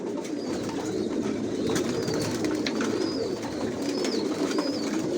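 Racer pigeons in a loft: soft, repeated cooing calls recur every second or so over a dense, steady murmur of many birds shuffling and calling nearby.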